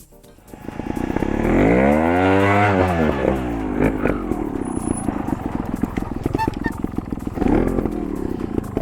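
A trial motorcycle rides through deep sand, its engine revving up in a loud sweeping rise and fall nearby, then chugging at low revs with intermittent blips while a rider talks over it.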